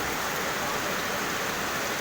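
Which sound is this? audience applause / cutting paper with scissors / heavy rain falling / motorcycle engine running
heavy rain falling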